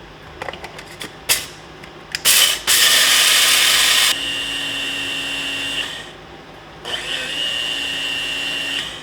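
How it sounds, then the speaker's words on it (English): An electric spice grinder whirs as it grinds toasted rice into flour, starting after a few short clicks and bursts, then running in loud, steady stretches with a brief drop and a restart. "Back to our freshly cleaned spice grinder."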